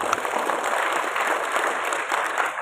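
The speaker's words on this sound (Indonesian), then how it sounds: "Tepuk tangan." An audience applauds steadily at the opening of a vocational high school MAPSI competition at a university in Semarang, a dense, even wash of clapping filling the room without pause.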